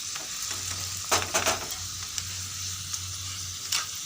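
A paratha fries in a pan with a steady, close sizzle, broken by a few sharp scrapes and taps of a spatula while it is flipped and pressed. No one speaks.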